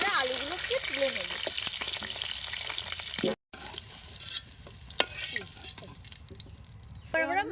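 Potatoes fry in oil with a dense sizzling hiss and scattered crackles, running under a voice that talks through most of the stretch.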